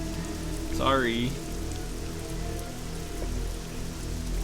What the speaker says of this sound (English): We're going to go inside from this rain.